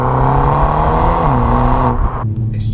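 A 2020 BMW M135i engine revs loud and close, its note rising steadily before dropping off as the throttle eases.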